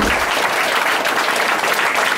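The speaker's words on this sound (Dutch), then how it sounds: "Geef je een heel groot applaus voor het wacht." Full-house clapping after a children's school musical performance, a thick, even roar of applause from many hands that holds steady at constant loudness across the whole stretch.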